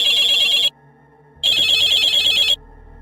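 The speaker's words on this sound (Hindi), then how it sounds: "तभी मेरी माँ का फोन आया।" A telephone rings with an incoming call, two loud electronic trilling bursts separated by a short pause, close and alone without speech.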